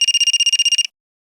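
A mobile phone rings with a rapid, pulsing electronic trill, loud and close, about a dozen quick even beats that stop abruptly into silence, in a crime drama scene.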